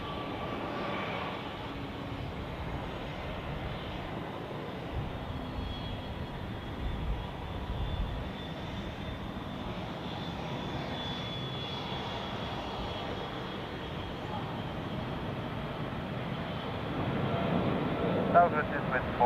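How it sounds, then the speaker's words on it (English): A Boeing 777 airliner on approach at Zurich Airport produces a steady, moderately distant engine roar that holds for the whole stretch and swells slightly near the end, with voices talking over it. "777 on approach, either Miami or Sao Paulo"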